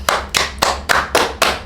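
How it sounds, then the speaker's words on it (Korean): A couple claps hands together in a small room, six sharp, evenly spaced claps, close and loud, each with a short decay and no talk between them. "박수 한번 치시죠."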